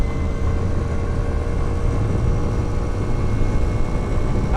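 A postie motorbike cruising in fourth gear at around 70, its engine giving a steady, loud, even drone blended with wind rush.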